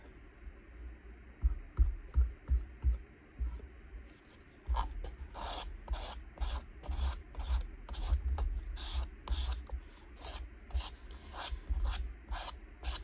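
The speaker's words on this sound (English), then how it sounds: "Might just scrape some gesso on." Gesso scraped onto an art journal page: a series of short, close, rasping strokes, sparse at first and then coming in a steady rhythm, with no talking.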